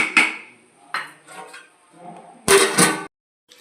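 A pot of mutton biryani being handled: a few separate metallic clanks and scrapes, then a louder clatter as the lid goes on, with quiet gaps between.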